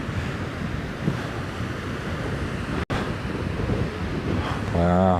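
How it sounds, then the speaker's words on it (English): Ocean waves surge and wash onto an eroded Pattaya beach in Thailand, a broad continuous rush mixed with heavy wind buffeting the microphone, with one brief exclamation. "Cool, we've had some waves down here."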